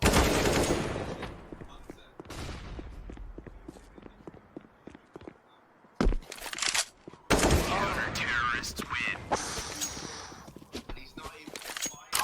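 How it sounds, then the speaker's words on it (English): Rapid auto shotgun blasts ring out during a Counter-Strike match at the DreamHack Masters 2020 Europe group stage, sharp bursts cutting in and out among footsteps and other gunfire, with commentators talking over the action. "Borup and his auto shotgun making quick work of the first man"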